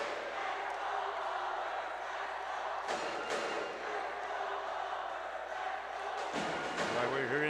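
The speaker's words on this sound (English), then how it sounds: "we're hearing the JRU cheering squad. Their band is also here." The JRU cheering squad and band roar from the stands at a preseason cup finals basketball game, a dense, continuous crowd din with chanting and drumming, broken by a couple of brief sharp bangs.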